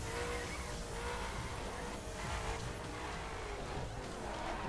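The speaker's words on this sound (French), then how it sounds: "Oh les drifts." Engine roar and screeching tyres from a car drifting in the racing video game The Crew, a steady, dense, loud wash of motor and skid noise throughout.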